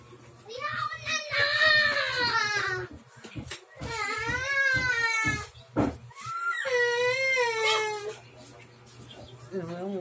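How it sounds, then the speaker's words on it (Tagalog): A young child cries and fusses loudly in drawn-out wailing bursts with short breaks between them, close by and dominating the scene. "Ang ingay po kasi ng bata eh."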